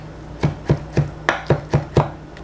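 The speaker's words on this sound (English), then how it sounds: "I want to chop up very fine." Cooked onions and green onions from bulgogi are chopped finely with a knife on a board, seven sharp, evenly spaced thuds in a steady rhythm, close and distinct with nothing else audible.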